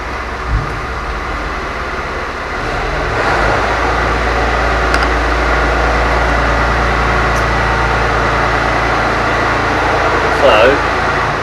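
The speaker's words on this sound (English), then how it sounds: "Dad's now decided he's going to get the tractor out" A tractor engine, noted as the 4.6, idles on a farm with a steady low drone that grows slightly louder partway through, while a person talks over it.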